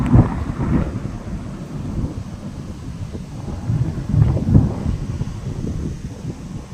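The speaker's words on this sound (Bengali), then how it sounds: "দুজনে জানলা খুলে দাঁড়িয়ে দেখছি বাইরের হাওয়া চলছে, মেঘ ডাকছে" A morning thunderstorm is heard through an open window: deep rolling thunder comes in several swells, with gusting wind buffeting the microphone and no voices.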